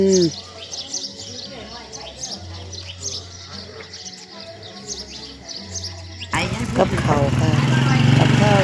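Small birds chirp and tweet busily in the early morning around a rural Isan village, bright repeated calls near and far, mixed with a low engine drone and later overlapped by someone speaking.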